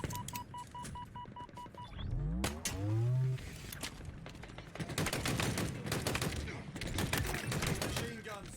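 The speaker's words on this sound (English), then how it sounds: "Machine guns suit you, Spartan." Rapid automatic gunfire in a Halo Infinite Big Team Battle match, loud bursts of shots from about five seconds on, preceded by chirping game tones and a rising electronic sweep, with in-game voice over the action.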